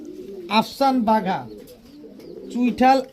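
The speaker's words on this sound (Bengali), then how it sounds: "ফুল ঝোপ্পা মুজোওয়ালা বিগ সাইজের একটা নর কবুতর" A big male Afsan Bagha pigeon with full crest and feathered feet coos in a few close, rolling bursts, with someone talking over and between them.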